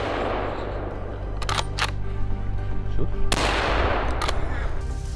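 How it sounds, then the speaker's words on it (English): Rifle shots ring out in a snowy wild-boar hunt, several sharp cracks scattered over a few seconds with a louder burst near the middle, set against a steady background hum. "Then, the gunfire resounded,"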